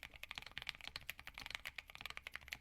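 Fast, steady typing on a Keychron Q6 Max mechanical keyboard with a full aluminum case, close and dense clacking keystrokes with no voices.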